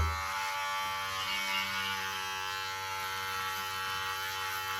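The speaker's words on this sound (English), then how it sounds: "Keep your clipper flat to the skin." An electric beard clipper held flat to the skin trims a short beard, buzzing steadily and close up with a constant motor drone throughout.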